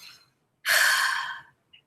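One deep breath, a long, airy exhale or sigh lasting close to a second, is heard near and clear in a quiet space, followed by a faint short breath noise.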